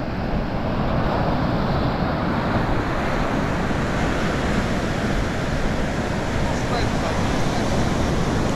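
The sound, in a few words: wind blowing at the seaside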